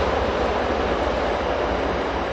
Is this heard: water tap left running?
no